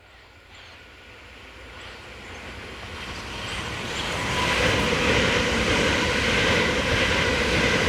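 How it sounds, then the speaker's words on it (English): A pair of British Rail Class 375 electric units on a Dover to London Victoria service passes, the rumble and rail roar building steadily from moderate to loud and holding as the train goes by, no voices. "we see a pair of Class 375 units, led by set number 711, forming train 1P40, the 1318 from Dover to London Victoria"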